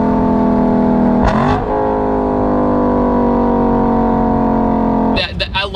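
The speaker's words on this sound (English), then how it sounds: "I love when you rev this thing out" Lexus LC500 V8 grand tourer engine holds a steady loud drone with a brief sharp burst near the start and another rising flurry at the end, close by and continuous throughout.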